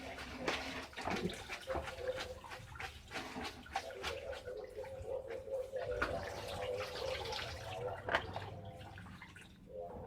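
Tap water runs steadily while noodle ingredients for mie ayam are washed in a kitchen, a continuous close splashing with some dripping and clattering and no talking.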